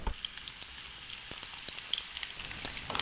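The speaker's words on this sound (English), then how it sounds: "Nice sizzle, these can go in." Onions for biryani sizzle in hot oil, giving a continuous bright crackling hiss with scattered pops and occasional stirring scrapes, close and alone.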